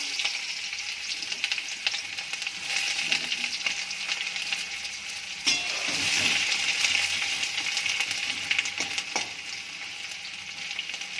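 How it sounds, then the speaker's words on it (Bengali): Sliced onions fry in hot oil in a wok, giving a steady close sizzle and crackle with occasional scraping stir sounds and no voices. "কড়াইতে তেল দিয়েছি, পেঁয়াজ দিয়ে দিলাম"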